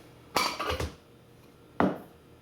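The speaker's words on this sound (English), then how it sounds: "I'm going to get myself a pan, put these in." A pan handled in a home kitchen while making eggplant parmesan: two short metallic clanks, the first followed by a brief rattle, close and clear against a quiet background.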